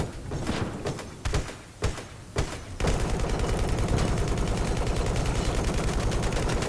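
Gunfire in Battlefield Hardline: several sharp separate shots at first, then a sustained loud, dense rattle of automatic fire lasting several seconds, close and unbroken.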